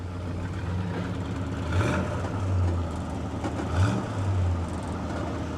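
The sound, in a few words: 1960 Plymouth Fury engine revving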